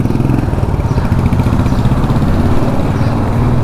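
A Royal Enfield Meteor motorcycle engine runs up close and loud with a steady, throbbing low drone that holds an even rumble throughout.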